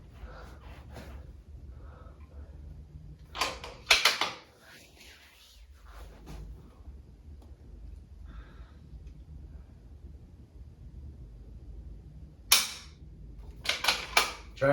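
A precision rifle is dry fired, giving a few sharp isolated mechanical clicks and clacks separated by long quiet stretches amid faint breathing and handling noise.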